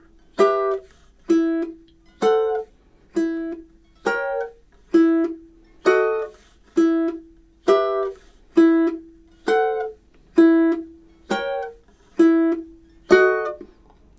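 Ukulele plucking the Nutcracker March, measures 17 to 20: a chain of about fourteen evenly spaced strummed chords, each ringing briefly before the next, clear and close with no talking.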